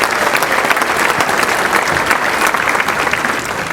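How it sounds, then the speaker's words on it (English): Steady, dense applause from an audience at a sports hall of fame ceremony, loud and continuous without a break and with no talking over it. "Let's give him a round of applause."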